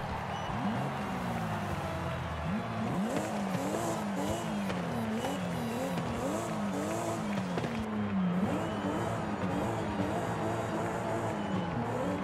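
A modified Toyota Supra's exhaust revs repeatedly in a steady, loud rising-and-falling pattern, heard up close with no talking.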